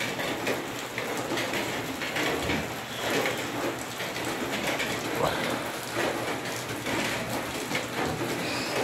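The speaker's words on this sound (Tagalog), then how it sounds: "Sige mag-ulan." Steady rain falls hard and close throughout, a dense continuous hiss of drops on surfaces with no breaks and no voices.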